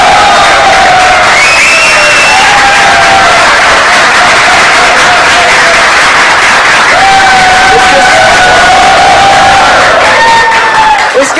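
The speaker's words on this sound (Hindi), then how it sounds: "हमारी शो की शान सलमान बट के लिए जोरदार तालियां।" Studio audience on a televised cricket talk show about the India v West Indies World Twenty20 semi-final erupts in loud cheering, whoops and applause, a dense continuous crowd roar with shouting voices rising and falling throughout.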